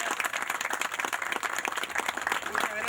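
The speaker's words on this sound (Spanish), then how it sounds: "Les voy a pedir un fuerte aplauso, por favor, para los chicos." An audience at an outdoor maize field-day event in Canals breaks into loud, sustained applause: dense, continuous clapping from many hands throughout.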